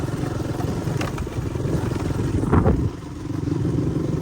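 A motorcycle engine hums steadily nearby while riding into dense jungle, with a brief louder rattle midway and a constant low drone.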